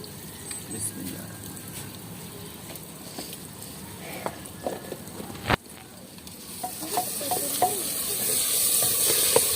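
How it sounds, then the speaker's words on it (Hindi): A tadka of tomato, onion and green chili with salt fries in a pan, with a steady sizzle and crackle, occasional stirring scrapes and pops, growing louder and busier toward the end. "तड़का बनाया था हमने टमाटर प्याज और हरी मिर्च का"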